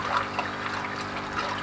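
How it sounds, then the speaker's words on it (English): Air lift pump pushing water up into a settling tank in a vertical grow system, a steady close bubbling trickle and gurgle with no talk. "it uses an air lift pump that you can see just operating here"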